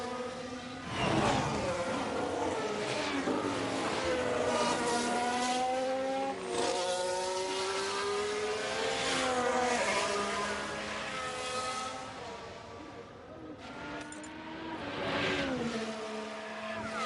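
Formula 1 race car engines howl and rise in pitch through repeated gear changes in the F1 Manager 23 game at Jeddah, a loud, continuous whine with brief dips between upshifts.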